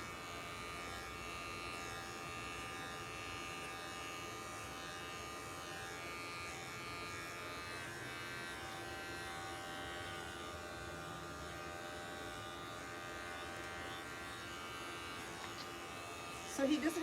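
Electric hair clippers buzz steadily and close up while cutting a very low taper on a man's classic haircut, a continuous drone running throughout with a brief louder knock near the end.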